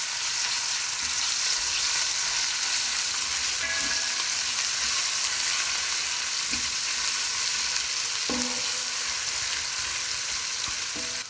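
Garlic, ginger and cumin frying in hot oil in a pan give a steady, close, loud sizzle that runs the whole time, with a few faint clinks of a utensil.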